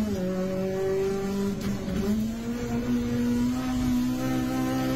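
Hot Wheels toy cars, a Mercedes 500E and an Acura NSX, racing down a track, giving a sustained whirring hum that rises in pitch partway through, with a brief rattling clatter in the middle.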